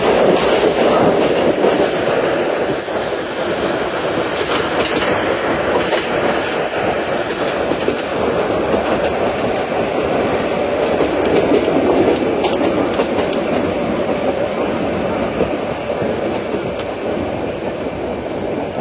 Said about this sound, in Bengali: ট্রেনটি আবারও তার গতি কমাচ্ছে।